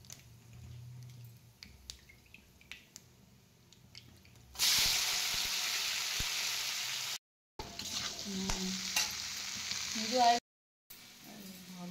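Kosla saag greens frying in a pan: after quiet clatter with a voice, a loud steady sizzle bursts in and hisses on, broken by short gaps with stirring and brief speech.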